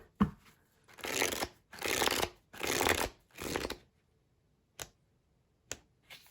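Tarot cards are shuffled in four steady riffling bursts, close and crisp, followed by a couple of sharp single card snaps or taps as cards are drawn; no talking.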